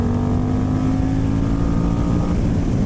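A 2018 Moto Morini Corsaro ZZ motorcycle engine runs close up and loud, a steady growling throb held at a constant rev for about three seconds, with no talking.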